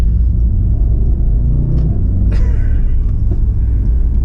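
A 2019 Mercedes-AMG E63 S sits idling, its engine giving a loud, steady, deep rumble that holds throughout with no speech over it.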